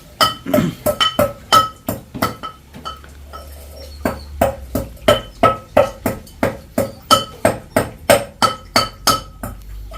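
Peppercorns are pounded in a pot in a Jaffna village kitchen, with sharp metallic thuds in a steady rhythm of roughly two strikes per second, loud and close, after a brief pause early on.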